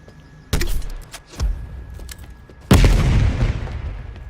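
A player jumps and fires a spawn tube in Black Ops Cold War. A few sharp in-game bursts of footsteps and movement lead into one loud launching blast, followed by a lingering rumble that slowly fades.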